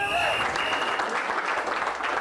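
Factory staff in Bath applaud together, a loud burst of clapping that sustains throughout with a few indistinct voices mixed in.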